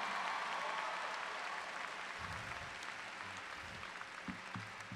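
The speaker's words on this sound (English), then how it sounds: "Let's give everybody a round of applause." Applause from a large audience at a 2018 undergraduate commencement ceremony, faint and distant, with clapping that starts fuller and then thins out as a voice begins to speak over the tail.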